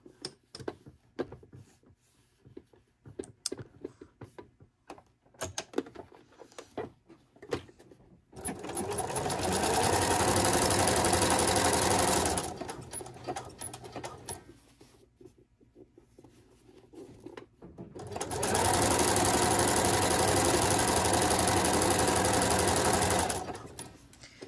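A sewing machine stitches elastic on a finishing pass in two long sustained runs of steady motor buzz, close and loud, separated by quieter handling sounds and fabric rustling.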